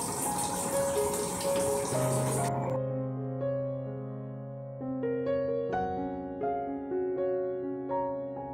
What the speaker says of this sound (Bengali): জগগুলোতে জল ভরার জন্য ফিল্টার নিচে বসিয়ে দিয়েছি